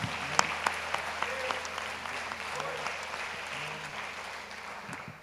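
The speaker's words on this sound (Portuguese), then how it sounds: "Aplaude o Senhor Jesus com alegria" Church congregation clapping along during a worship service, steady rhythmic applause with sharp individual claps and voices singing or talking underneath throughout.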